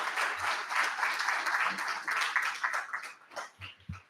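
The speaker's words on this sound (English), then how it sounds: "If you wouldn't mind giving him a round of applause for his hard work and dedication." A crowd claps at an evening lecture for a local Hubbard, Ohio historian, steady, fairly close applause that thins out toward the end, with a few low thumps and murmurs.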